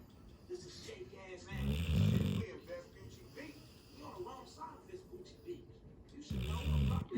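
A person snores in loud, rough bursts, one long snore near the start and another at the end, while someone talks softly in between.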